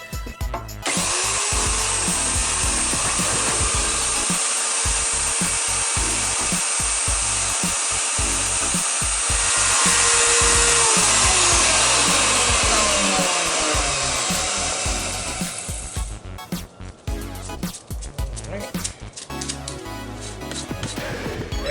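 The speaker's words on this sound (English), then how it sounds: "This is my first time using a table router." A table router cutting a cell phone pocket into a VIP style console piece gives a loud, sustained high whine with a rough cutting edge, running for about fifteen seconds before it spins down into clatter and rustling.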